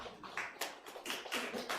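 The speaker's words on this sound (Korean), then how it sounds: "박수로 감사합니다." Applause from a church congregation during a Sunday service, a short burst of clapping hands with close, uneven taps rising and falling.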